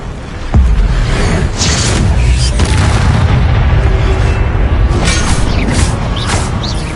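A fiery spell blast from the Hogwarts Legacy video game opens with a sharp booming burst, followed by a sustained roaring, crackling rumble of flames and combat effects that stays loud throughout.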